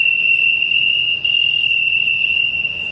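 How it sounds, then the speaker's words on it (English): A continuous high-pitched cricket chirr holds steady and loud for the whole stretch, with no voices. "That's crickets."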